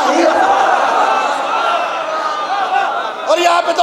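Crowd at a religious majlis gathering chanting slogans, a loud dense mass of voices sustained throughout, with a fresh surge of shouting near the end.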